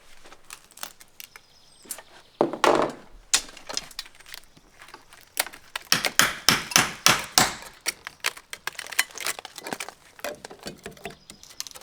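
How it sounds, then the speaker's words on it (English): Wooden trim is pried and pulled off a window during a bow window removal, making a series of close, sharp cracks, knocks and scraping rattles in irregular bursts, loudest in the middle stretch. "Pull the trim off of this one?"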